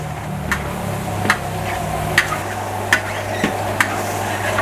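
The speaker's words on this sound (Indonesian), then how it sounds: "kita tumis-tumis ya biar aroma baksonya menginfuse si minyaknya dulu" Meatballs stir-fried in oil, a steady close sizzle broken by about six sharp clicks of a spatula against the pan at irregular intervals.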